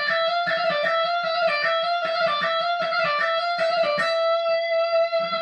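Distorted electric guitar plays a snake-charmer lick in E Phrygian dominant, a quick run of clean sustained notes with shift slides, ending on a ringing held note, solo with no voices.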